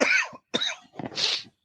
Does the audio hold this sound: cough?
yes